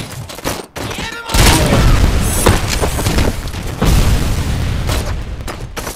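Loud bursts of gunfire in RoboCop: Rogue City during a boss fight, heavy booming volleys and sharp shots close up, with brief pauses between sustained barrages and shouted enemy voices.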